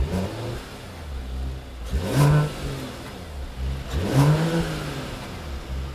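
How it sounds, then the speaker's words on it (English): A 2021 Mercedes-Benz E450 All-Terrain hybrid engine hums low on startup, swelling twice in short revs with a soft mechanical whir; no voices. "The exhaust note is not for attracting attention."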